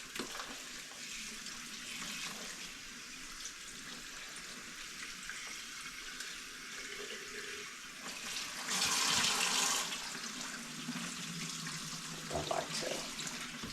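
Tap water runs steadily into a sink while raw turkey legs are rinsed under it, a continuous hiss and splash with a brief louder gush midway and small handling clatters.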